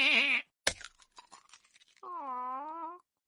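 Goat bleats in a children's story narration: one wavering bleat, then a pause, soft crunching and chewing sounds, then a second long, clear bleat. All are close and fairly quiet.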